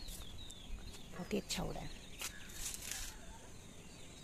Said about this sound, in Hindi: आप देख सकते हैं अभी इतनी चिड़ियाओं की आवाज़ आ रही है